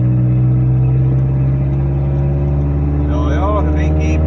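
A car engine labours steadily uphill on a gravel road in strong wind, a loud continuous drone with rising tones near the end.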